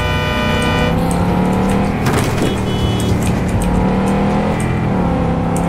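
Car engine driving through a busy city street in the video game Cyberpunk 2077, a steady loud motor drone with a brief swell of revving midway, continuous throughout with no talk.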